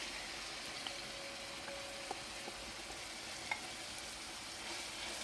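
Saltfish fries with yellow and other peppers and scallion in a pan, a soft, even sizzle with faint bubbling and a few light clinks of a utensil; no speech.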